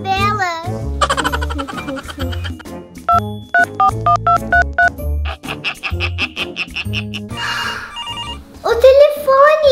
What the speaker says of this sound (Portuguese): O telefone.